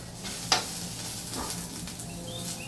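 Chopped garlic sautés in a pan with a soft, steady sizzle, marked by an early utensil clink and a few light scraping stirs.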